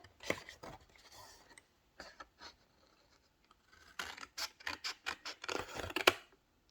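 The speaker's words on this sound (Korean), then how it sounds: "여기를 하나, 둘, 셋, 네 군데를 이렇게 잘라줍니다" Scissors snip through corrugated cardboard while an origami basket is being made. Several short, dry, rasping cuts come in irregular bursts, close and fairly faint, with quiet gaps between them and no talk.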